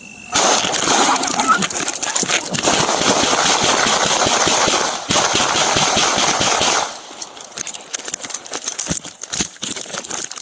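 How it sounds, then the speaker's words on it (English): Gunfire during a police encounter on Azie Morton Road in Austin, Texas, heard as a long loud dense rattling burst lasting several seconds, then scattered sharper cracks and noise, close, with some voices mixed in. "shots fired. I have 2 down. I'm hit."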